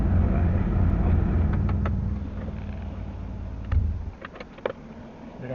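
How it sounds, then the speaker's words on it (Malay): A Proton car on a test drive after an ECU remap, a steady low engine and road rumble from inside that eases off midway, followed by a few clicks and knocks. "kita pergi test drive."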